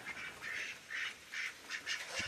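Several ducks quack in short repeated bursts, moderately close, with brief pauses between the calls and no voices.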